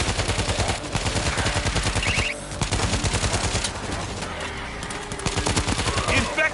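A mounted turret in the World War Z zombie shooter, set in Rome, fires rapid continuous bursts, loud and close. The rattling stream breaks off briefly twice before resuming.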